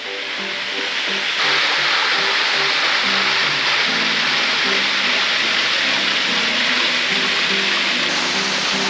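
Steady, loud roar of Jiadong waterfall near Dajianshan in Xizhi, a low-flow cascade, close by and continuous throughout with faint tonal murmurs underneath.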